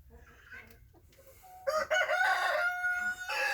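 A rooster crows loudly and close, with hens clucking softly before it, all inside an enclosed chicken coop.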